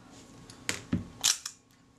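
A Retina Reflex III camera being cocked gives a quick run of sharp mechanical clicks and snaps, with the capping plate dropping, close up and crisp in a quiet room.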